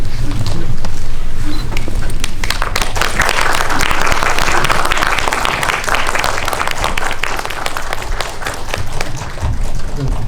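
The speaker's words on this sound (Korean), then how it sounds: "입장하실 때 뜨거운 박수 부탁드립니다." A cinema audience applauds loudly as the director and actors walk in on opening day, a dense, sustained wall of clapping that fills the room from start to end and tapers only slightly.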